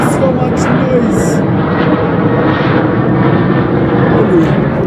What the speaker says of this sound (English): That plane over there is making so much noise.